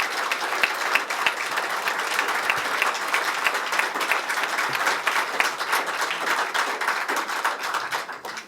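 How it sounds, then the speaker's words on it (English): Audience applause at an award ceremony, a full, steady round of clapping from a large indoor crowd that carries on for about eight seconds before easing off. "Ladies and gentlemen, please give a warm round of applause for the Honorable Wilson Livingood."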